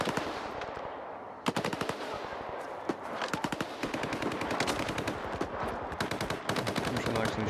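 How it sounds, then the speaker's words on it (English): Gunfire and machine gun shots in the video game Stalker 2: rapid automatic bursts and single shots crackle continuously from both sides, a dense, sustained exchange at moderate distance. "Still shooting somebody up there. There's shots on both sides."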